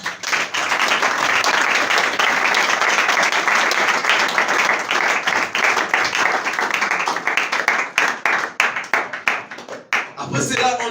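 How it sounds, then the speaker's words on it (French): A church congregation claps and cheers in praise of the Lord during a pastor's sermon: loud, dense, sustained applause that gradually thins into scattered, uneven claps near the end. "Acclamons pour le Seigneur."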